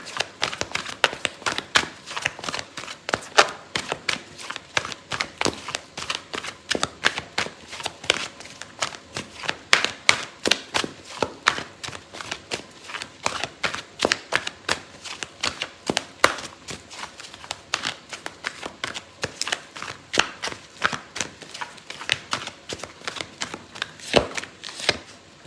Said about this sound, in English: I'm gonna pull out a card